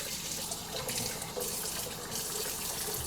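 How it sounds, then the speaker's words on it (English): Cold water runs from a kitchen sink tap for making a batch of mead, a steady quiet stream splashing continuously into the basin. "we're going to take a little bit of cold water from the sink"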